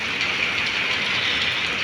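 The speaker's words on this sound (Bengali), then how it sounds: "আল্লাহর রহমতের বৃষ্টি শুরু হয়েছে" Afternoon rain falls steadily on an overcast day near flowering plants, a dense, even hiss with no voices or breaks.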